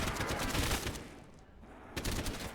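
AK rifle fire in a VRChat zombies game, rapid bursts of close, loud automatic shots in a tight rhythm, pausing briefly mid-clip before another burst resumes.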